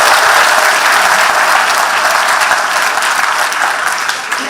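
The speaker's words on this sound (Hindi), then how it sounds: "तो जरा ताली वाली बजाओ, आगे बढ़ो।" An audience at a government scholarship distribution event breaks into loud, continuous applause. The many overlapping claps form a steady roar that eases slightly at the end.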